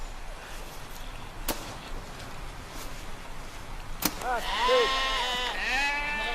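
Sheep bleat in a snowstorm, several wavering calls rising near the end over windy hiss, with two sharp knocks earlier; fairly faint overall.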